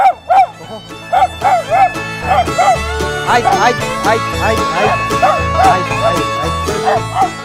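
A small Chinese dog in Macau yips and barks in quick repeated bursts, close and loud, over a steady tonal background hum.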